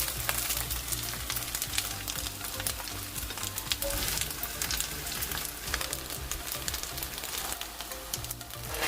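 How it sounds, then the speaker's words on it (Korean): Tofu pan-fries in plenty of cooking oil over medium heat, browning on both sides in a preheated pan. A dense, continuous sizzle holds close and loud throughout, with scattered pops and crackles. "뒤집어서 앞뒤로 노릇노릇 구워주세요."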